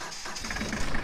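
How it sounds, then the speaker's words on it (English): Kubota B2650 compact tractor engine running, a short continuous mid-pitched mechanical drone that holds fairly steady and swells slightly near the end; no talking. "I'm gonna use the B2650 Kubota tractor."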